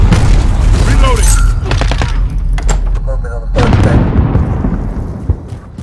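Heavy explosive booms from bazookas in the video game Call of Duty: Modern Warfare, loud and close, repeating in dense bursts amid gunfire-like cracks, with a brief quieter gap midway before another blast.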